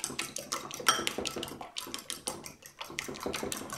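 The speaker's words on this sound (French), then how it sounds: "ici, je récupère mes œufs. Ok, et je viens les battre." Whole eggs being beaten in a bowl produce a quick run of sharp, close clinks of whisk or fork against the bowl in uneven bursts with brief pauses, and no voices.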